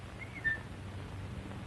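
A person gives a single short, faint whistle in a 1937 film soundtrack, a brief rising tone over low background hiss with no talking.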